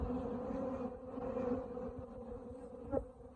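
Honey bees buzzing over an open hive in an apiary, a steady close hum rising and falling slightly with a brief louder burst near the end.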